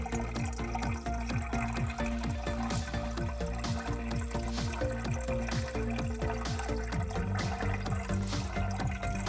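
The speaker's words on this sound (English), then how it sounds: "My very first scoop ever into my Toolbox Sluice." Water rushes steadily through a toolbox sluice as paydirt is scooped in, forming a dense, continuous splashing flow heard close up with no talk.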